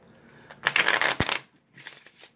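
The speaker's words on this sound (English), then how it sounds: "give it at least 3 good shuffles" Cards riffle in a quick burst, a sharp snap as the deck comes together, then a softer second shuffle follows.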